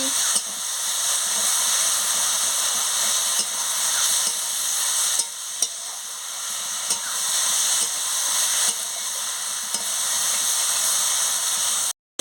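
Potatoes sizzling and frying in oil in a pan with tilapia curry, a steady close hiss with faint stirring clicks that runs throughout, ending abruptly.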